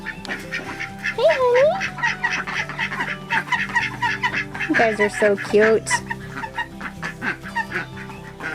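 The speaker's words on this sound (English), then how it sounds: "I love watching our ducks." Domestic ducks quack in a backyard flock with chickens nearby, a few calls rising near and clear over steady farmyard noise while someone talks softly to the birds.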